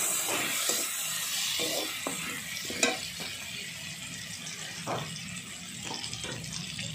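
Dry red chillies and crushed garlic cloves fry in oil left over from cooking crab, giving a close, continuous sizzle and hiss. Occasional stirring clatters and sharper pops break through, and no one speaks.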